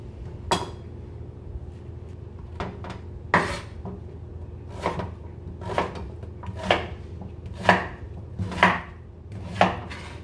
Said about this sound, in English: here you'll see how I'm cutting up my watermelon rind chunks